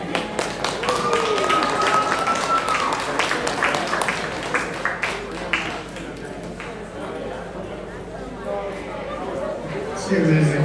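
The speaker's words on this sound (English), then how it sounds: "Give him a round of applause." A crowd at a market lamb show applauds an exhibitor. Dense, steady clapping fills the first half and then thins out, with a tonal ring near the start and voices underneath.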